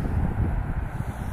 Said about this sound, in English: Fighting a little bit of wind.